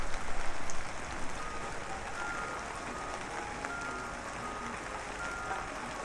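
Steady rain from the Higurashi Chapter 2 video game, a dense continuous patter heard alone with no talking, slightly louder in the first second before settling to an even hiss.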